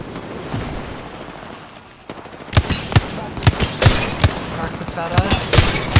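Rapid gunfire bursts from an Apex Legends match, sharp repeated shots in quick clusters that start after a quieter stretch, with a player talking over the action.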